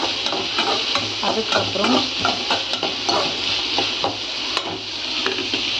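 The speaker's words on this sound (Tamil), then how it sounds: "வெங்காயம் நல்லா வதங்கட்டும்." Onions sauté and sizzle steadily in a pan while a utensil stirs and scrapes in repeated strokes, close and moderately loud, with a brief spoken word over it.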